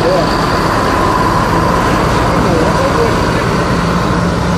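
Royal Eksekutif coach bus rolling onto the Ciputat toll road, a steady broadband rumble of engine and road noise throughout at constant loudness, with no break or rise.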